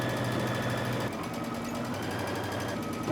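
A sewing machine runs steadily, stitching a dress collar down with a normal-length stitch along a 5/8-inch seam allowance, a continuous close mechanical whir with a brief shift in tone partway through.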